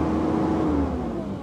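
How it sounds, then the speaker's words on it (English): A 2022 Kubota SVL75-2 compact track loader's diesel engine held high on the hand throttle, a loud steady drone with a slight falling pitch, heard close and alone. "Here's hand throttle."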